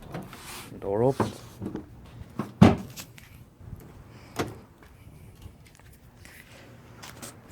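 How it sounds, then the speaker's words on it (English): The door of a 1982–92 Chevrolet Camaro or Pontiac Firebird opens after a new interior handle is fitted, with a few close mechanical clicks and a solid latch thunk among quieter handling noises. "Door opens."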